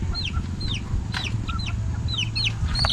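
Young chicks cheeping and clucking nearby, a series of short, bright calls repeated irregularly over a low background hum.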